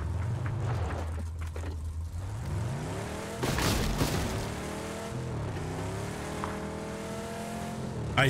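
Car driven in PUBG, engine droning and shifting pitch as it accelerates and revs, close and steady, with a brief rougher burst midway.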